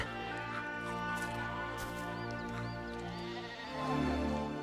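Sheep bleat repeatedly in an animated pasture scene, wavering nasal calls overlapping one another over a soft musical bed, with a louder, lower bleat near the end.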